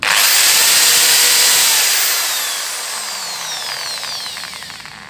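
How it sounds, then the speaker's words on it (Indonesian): An electric drill runs near and loud, its high whirring whine holding steady before easing slightly lower and quieter; it is powered through a power-saving capacitor setup. "mesin bor ini kita nyalakan"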